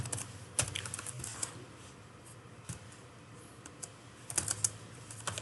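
Fingers type on a computer keyboard in steady, light clicking keystrokes, fairly quiet and close, with a brief flurry of faster taps near the end and no talking.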